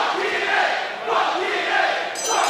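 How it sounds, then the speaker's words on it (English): Wrestling crowd at a House of Hardcore show chanting in unison, loud rhythmic waves of voices that swell and dip in repeated phrases. "the crowd here voicing their opinion on another wrestling company"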